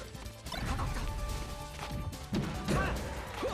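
A forward smash attack lands in a fighting video game, with loud crashing hit impacts and game effects layered over steady game noise.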